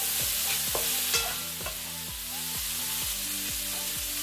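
Cabbage stir-fried in a pan with soy sauce and spices gives a steady close sizzle, with repeated scraping stirs of a utensil against the pan at a regular rhythm.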